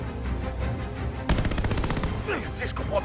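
Rapid bursts of anti-aircraft gunfire in Call of Duty: Vanguard erupt suddenly and continue in a steady pounding rhythm, with rumbling aircraft engine noise underneath.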